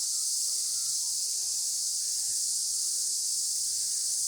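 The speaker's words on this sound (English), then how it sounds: "We just disturbed a load of cicadas over there," A dense, steady high-pitched drone of a large swarm of disturbed cicadas flying about fills the air on a mountain hiking trail, loud and unbroken, with faint low rumbling beneath and no voices.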